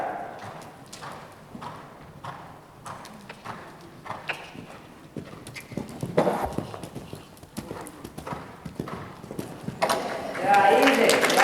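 Horse's hooves thudding and clip-clopping on an arena surface during a show-jumping round, an uneven rhythm of strides that grows louder toward the end, with a coach talking over it.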